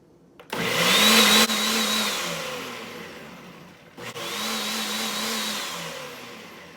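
A Ninja Foodi power blender runs on its smoothie setting. Its motor whines loudly for about three seconds, winds down, then runs again for a similar stretch with a steady high-pitched hum.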